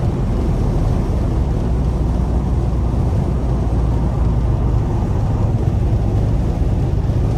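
A tuned 2006 Acura TL with a five-speed automatic is heard from inside the cabin. A loud, steady engine drone and road roar hold constant throughout under hard acceleration, with no distinct shift or talk.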